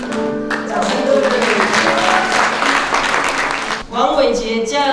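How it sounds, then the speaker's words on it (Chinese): Applause at a wedding ceremony, a steady wash of many hands clapping that fills most of the moment, with a voice speaking over it throughout. "掌声鼓励"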